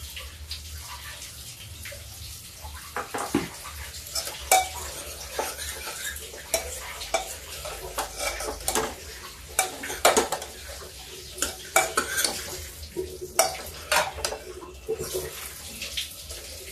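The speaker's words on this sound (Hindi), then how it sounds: "ढक ढक के इस मसाले को हम इससे भूनते रहेंगे।" Spice masala being stirred and fried in a pan for a mixed vegetable dish, with repeated scraping and clinking of a spoon against the metal and a soft sizzle underneath, close and steady.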